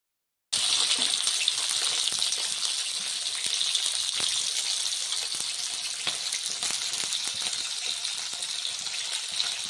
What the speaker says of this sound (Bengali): চলো পাবদা মাছগুলোকে ফ্রাই করে নিই